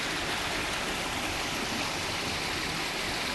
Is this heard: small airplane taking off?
no